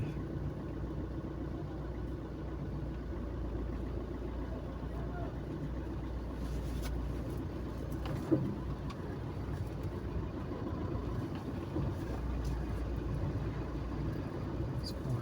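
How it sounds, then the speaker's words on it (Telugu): A school bus engine idles nearby as the bus arrives at a house to pick up schoolchildren, a steady low rumble running throughout with a brief knock partway and people talking over it. "ఇప్పుడే బస్సు వచ్చింది"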